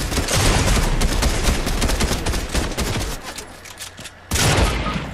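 Rapid shotgun fire in a video game: a dense, loud barrage of overlapping blasts for about three seconds, a thinner stretch, a brief near-silent gap, then another burst of heavy shots close by.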